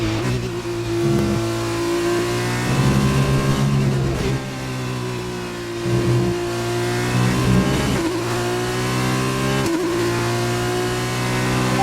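A race car engine on its final lap, loud and close, revving hard in sustained pulls with brief dips at gear changes, rising again each time.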